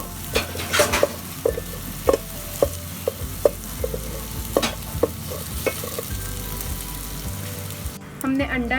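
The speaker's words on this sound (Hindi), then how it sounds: "उसमें मैं अंडा ऐड करूँगी ताकि हम इसको पहले फ्राई कर लें" Egg frying in hot oil in a pan while cooking restaurant-style chicken fried rice; steady close sizzle with repeated stirring and scraping clicks throughout.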